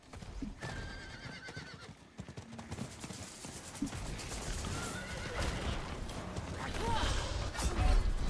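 In the Diablo IV video game, a horse whinnies loudly near the start, then hooves clip-clop steadily amid clanking game effects and bursts of crashing action, growing louder toward the end.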